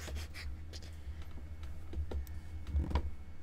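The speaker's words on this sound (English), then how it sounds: "Him clicking his mouse and the keyboard." Computer keyboard typing mixed with mouse clicks, a quick irregular patter of close, faint clicks and taps over a low background hum.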